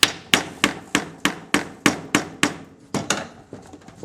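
A tool taps on the bowl of a carburetor from a Mercury V6 outboard to work it loose, making about a dozen sharp, even knocks in a steady rhythm, close and loud, with the last few coming lighter and quicker.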